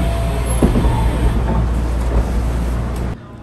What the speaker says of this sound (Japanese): さあ普通電車は終点の高槻市駅に到着しました。